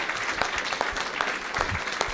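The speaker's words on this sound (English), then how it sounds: "Let's give a round of applause for Old Republic Home Warranty." An audience at a live house-flipping seminar applauds with steady, dense clapping that fills the room evenly, with a few louder claps standing out near the front.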